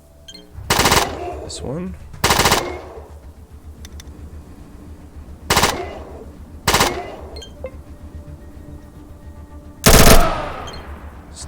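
A submachine gun in the ATOM RPG game fires a series of loud, short bursts of five and three rounds, separated by pauses, with a brief spoken comment in between.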